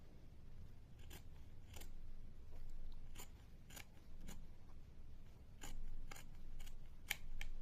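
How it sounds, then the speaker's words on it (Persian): Scissors snip through fabric along a seam while sewing a buttonhole binding, a string of sharp crisp cuts spaced irregularly over a low steady room hum, close and fairly quiet. "خب اینو از کنار دوخت دومتون لب به لب قیچی کنین."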